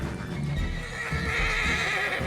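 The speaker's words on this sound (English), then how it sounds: "Stop your horse." A horse in the Red Dead Redemption 2 video game whinnies loudly while its hooves clop in a steady, close rhythm over a continuous outdoor background.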